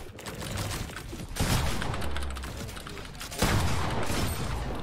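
Minigun fire in a Fortnite Zone Wars match, a loud, continuous rattling barrage in near-constant bursts with two sharper surges partway through, no voices over it.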